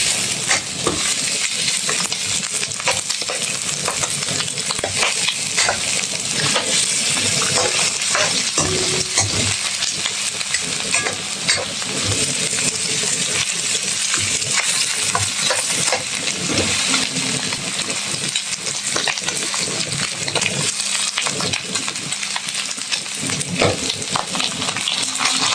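Pork frying in its own rendered fat with sautéed onion and garlic, a dense, loud, continuous sizzle with occasional stirring scrapes and clinks throughout, no voices.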